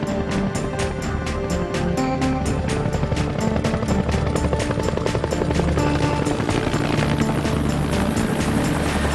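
A U.S. Navy military helicopter lifts off, its rotor chopping in a loud, steady, rapid beat that fills the space close by and holds constant throughout.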